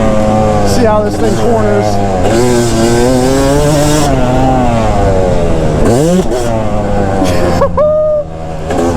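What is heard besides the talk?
Yamaha YZ250 two-stroke dirt bike engine riding on track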